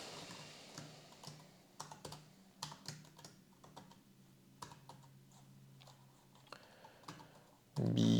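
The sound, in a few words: typing on a computer keyboard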